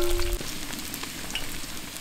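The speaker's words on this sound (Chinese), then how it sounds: "把这个蒜子姜丁炒一下。" Garlic cloves and diced ginger stir-fry in hot oil with small pieces of pork, giving a steady close sizzle and crackle with a faint metallic touch at the start.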